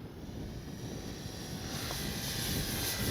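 An RC F4U Corsair model warbird with flaps down makes a slow low pass at a flying field, its engine a steady drone that swells gradually louder as it approaches.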